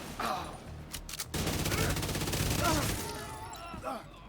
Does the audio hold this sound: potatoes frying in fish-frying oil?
no